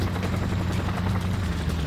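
A helicopter in the video game Just Cause, a steady close rotor drone with a low throbbing hum that holds evenly throughout, with no talk.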